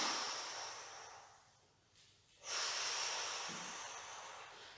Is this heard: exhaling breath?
yes